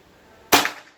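A single sharp shot from a Bocap Pajero PCP air rifle, full CNC Gen 5, fired during zeroing: one crisp crack that decays quickly after a quiet lead-in, with no voices.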